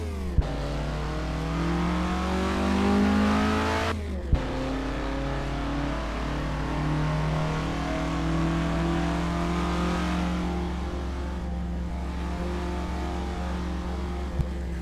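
A race car in a racing game accelerates out of a corner onto the main straight, its engine rising in pitch through the gears with a sharp upshift around four seconds. The sound is loud, close and continuous, with no talking.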